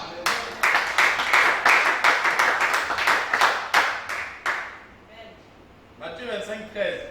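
A congregation at a night prayer vigil claps in a quick run of sharp, rhythmic bursts, then falls quiet before a few more scattered claps under a voice.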